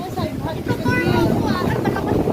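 Steady wind buffeting a microphone on a beach in Boracay, with rushing breeze and surf under continuous talk from nearby voices.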